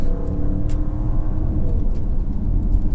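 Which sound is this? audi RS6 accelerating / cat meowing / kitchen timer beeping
audi RS6 accelerating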